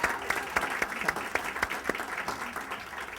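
An audience at the Brooklyn Business Summit at Polytech NYU applauds the conference staff, a moderate patter of many hands with a few sharper claps standing out, steady throughout.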